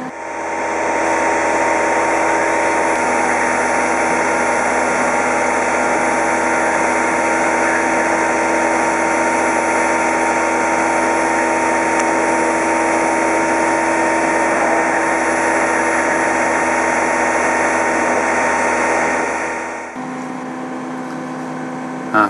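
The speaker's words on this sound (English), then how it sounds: "One of the first jobs we can use the router for is to drill the screw holes." Loud, continuous machine whine and drone of a CNC router drilling screw holes, steady for about twenty seconds before dropping away near the end.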